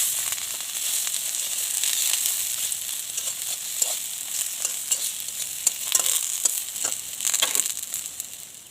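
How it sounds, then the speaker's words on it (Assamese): Bora fritters made from rangalau leaves fry in a pan of hot oil. They give a steady, close sizzle with small pops and crackles scattered through it, and no one speaks. "এনেকৈ এটা এটাকৈ দিব গোটেইকেইটা, লাহে লাহে জুই দি পেলাই ভাজিব লাগিব।"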